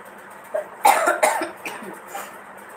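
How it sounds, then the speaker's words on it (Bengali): A person coughs in a short cluster of two or three harsh, close coughs, then a fainter one trails off against quiet background. "দেখতে পাচ্ছ এখনো কাশি অলরেডি হচ্ছে, বন্ধ হচ্ছে না"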